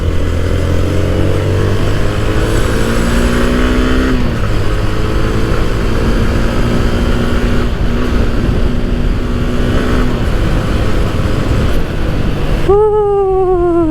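Yamaha MX King 150 motorcycle engine during a riding test in Indonesia, a steady loud drone with rising and falling revs through gear changes, ending in a sharp upward rev.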